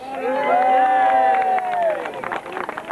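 A crowd at a 1995 grasstrack championship results announcement cheers and shouts together, with one voice holding a long yell over the general noise, which then breaks into scattered calls and claps.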